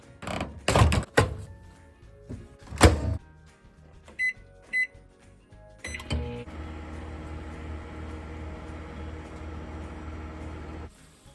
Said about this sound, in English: My microwave is steaming up, so I think it's ready.